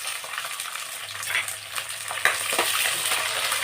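Green chillies and onion frying in hot oil for raw mango rice, a steady close sizzle with occasional stirring scrapes, no voices.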